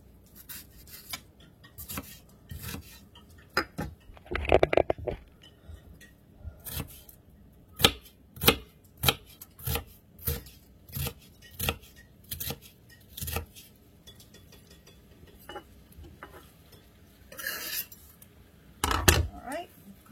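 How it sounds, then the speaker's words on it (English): An onion is chopped with a knife on a board, sharp irregular knocks that cluster into quick runs with pauses between them, close and fairly loud against a quiet background. "I'll cut this other onion up and put that in there with it also."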